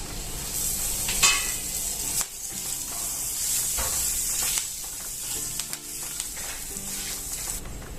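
Cumin seeds and curry leaves fry in hot oil for sooji papdi, giving a steady, close, hissing sizzle with occasional crackles and stirring scrapes, and no talk.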